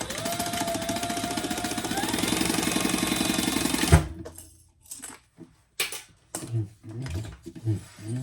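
A home sewing machine stitches a fabric shoulder bag in a fast, steady mechanical rattle for about four seconds, then stops; scattered handling clicks and thumps of fabric follow.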